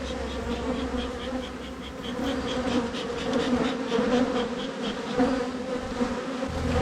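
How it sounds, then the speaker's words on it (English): Angry honeybees buzzing densely around an open hive of a mini mating nuc during frame inspection, a continuous loud swarm drone close to the microphone with no speech. "These bees are pretty angry."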